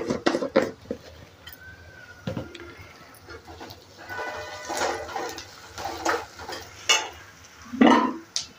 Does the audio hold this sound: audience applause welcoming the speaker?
no